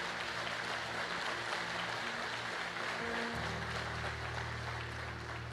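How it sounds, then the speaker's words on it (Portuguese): A church congregation applauds together in a steady, dense wash of clapping that fills the room and holds at an even level throughout, with a low sustained tone entering partway through. "Aplauda ao Senhor."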